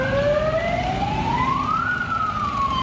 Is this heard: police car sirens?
yes